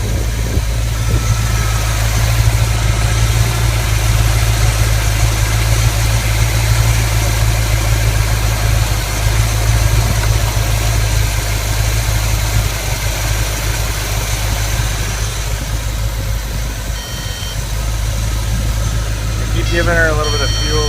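A race car engine idles with a loud, steady low rumble and is given small bursts of fuel. The engine runs roughly and tends to flood, and a voice talks over it.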